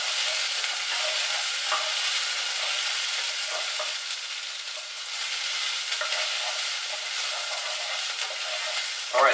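Chopped vegetables for corn chowder sizzle and fry steadily in a pan as they start to brown, with occasional stirring scrapes throughout.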